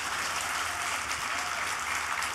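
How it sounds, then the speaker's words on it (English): An audience at a 2022 advanced energy conference claps in a dense, steady round of applause for a couple of seconds. "Let's give her a round of applause"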